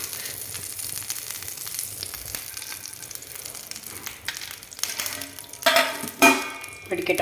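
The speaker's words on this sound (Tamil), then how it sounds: "இந்த பக்கம் வந்து தேங்காய் எண்ணெய் தான் தாளிக்கணும்" Sizzling and crackling in a hot pan, with sharp popping bursts growing louder near the end as mustard seeds splutter in coconut oil.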